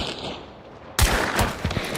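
A single gunshot in Hunt: Showdown cracks out about halfway through after a quiet stretch, followed by a couple of softer thuds and echoes nearby, with no one talking.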